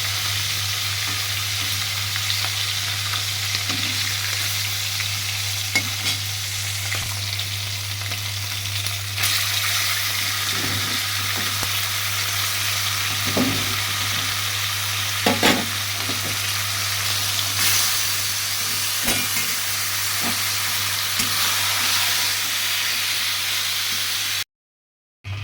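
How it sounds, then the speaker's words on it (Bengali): A hilsa fish head frying in oil in a pan gives off a steady, close sizzle for about twenty-five seconds, with soft stirring taps and pops scattered through it and a constant low hum underneath. "আর এখন ইলিশ মাছের মাথাটা ভাজা হচ্ছে"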